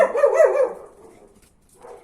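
A pet dog indoors gives a short burst of barking, a couple of quick barks up close, then a brief quiet pause before a fainter yip at the end.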